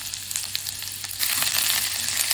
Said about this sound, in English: In a pan, heat some oil and sauté the onions until softened